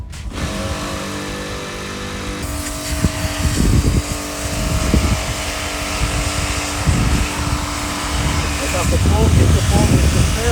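Roots being cleaned of soil with a Kärcher pressure washer, a continuous loud hiss and spray over the pump's droning whine, with water splashing in bursts and people talking at times.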